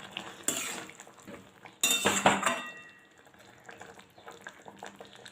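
A pot of pointed gourd curry with garam masala being stirred, a metal spoon clinking and scraping against the pot in a few bursts, with a quieter stretch of faint clatter toward the end.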